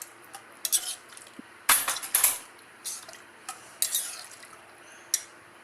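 A spice mixture is stirred into rice for paneer pulao, with irregular close clinks and scrapes of a spoon against a metal pot, sharp short strokes spaced apart over quiet background, no talking.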